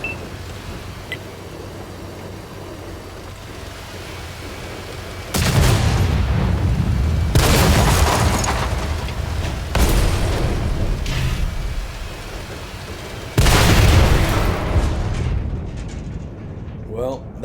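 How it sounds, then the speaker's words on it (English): Heavy tank cannons boom in a video game, four loud, deep blasts spaced a few seconds apart, each with a long rumbling tail over steady engine-like background noise. "These guys have got big booms."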